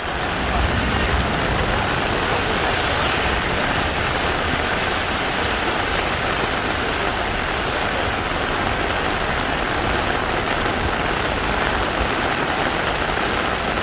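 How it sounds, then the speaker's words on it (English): Heavy rain pours steadily on a Bangkok street near Nana BTS during a big thunderstorm, a dense, even hiss of falling water close by with no distinct thunder claps standing out. "it's not only raining, it's also a pretty big thunderstorm going on"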